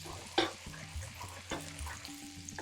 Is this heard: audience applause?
no